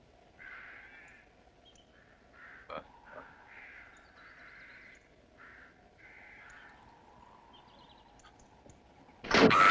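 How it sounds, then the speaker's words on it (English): Several crows caw in short, harsh bursts at a distance, spaced irregularly over a quiet, low background hum, with one sharp knock partway through and a loud burst of noise at the very end. "I just keep hearing the crows."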